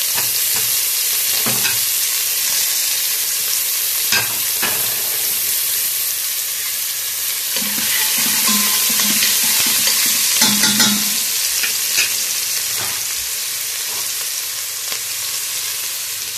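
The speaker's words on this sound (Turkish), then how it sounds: "İçerisine doğradığım soğanımızı koydum." Chopped onions fry in oil in a pot as a steady, loud sizzle, with scattered scrapes and clinks of stirring throughout and no talking.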